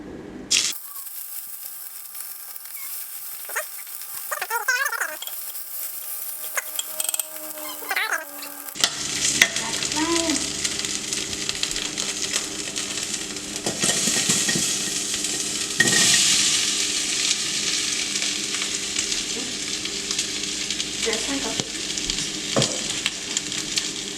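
Ají amarillo chili pepper hits hot oil for a Peruvian squash stew after a quieter start, then sizzles continuously with scraping stirs throughout, close and fairly loud, no voices.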